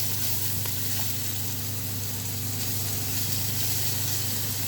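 Sliced onions caramelizing in a frying pan for pancit bihon, giving a loud, dense, continuous sizzle and hiss that stays close and even throughout, with no voices.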